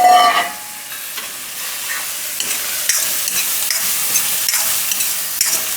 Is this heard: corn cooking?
yes